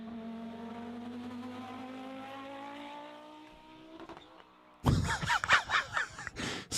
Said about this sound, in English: That's probably one of the better race cars of all time, the Audi 90. Listen to this.